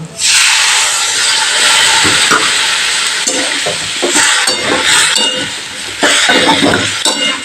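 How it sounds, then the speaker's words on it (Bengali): Water is poured into fried spice paste in a hot pan for a green banana and potato curry, giving a loud, steady sizzle and hiss with occasional clinks of stirring and no talk. "এবার আমি এর মধ্যে কিছুটা পরিমাণ জল অ্যাড করে দেবো"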